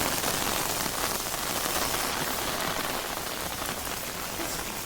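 Heavy rain pours down steadily, a dense, even hiss of drops striking surfaces close by with no pauses.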